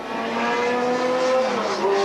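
Trans Am race cars at the 1986 SCCA race in St. Petersburg howl past with sustained, rising engine tones and a faint tire squeal, loud and continuous.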